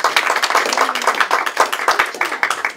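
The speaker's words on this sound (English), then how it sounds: "This round of applause is for you." A small group claps in quick, uneven bursts after a group hypnosis session, a short and fairly close round of applause without speech over it.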